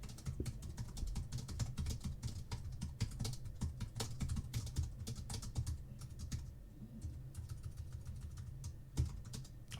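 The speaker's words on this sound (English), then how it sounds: "I like this keyboard. It's quite noisy." Rapid, heavy typing on a loud computer keyboard, the clacking keystrokes dense and continuous from start to finish over a low background hum, close to the microphone.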